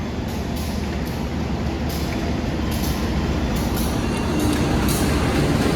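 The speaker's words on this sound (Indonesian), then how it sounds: "Kita ketemu sama kereta api apa ini?" A steady, loud low rumble and clatter of a passenger train, likely the Pasundan, rolling past nearby, continuous for several seconds with faint high squeals.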